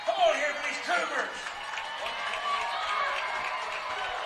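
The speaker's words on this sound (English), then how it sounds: "Put your hands together, ladies and gentlemen. Let's hear it." A high school football crowd at a Jefferson vs Washington game cheers and claps for the Cougars, a broad, steady roar of applause with a public-address voice talking over it.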